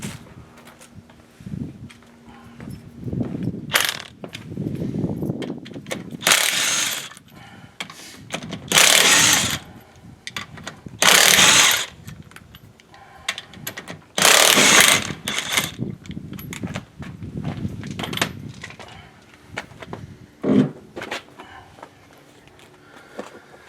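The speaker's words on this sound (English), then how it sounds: "Get the lug nuts off." Lug nuts coming off a Polaris General wheel with a 19 mm socket on a ratchet, several loud bursts of rapid mechanical whirring and clicking separated by quieter handling noise and shuffling.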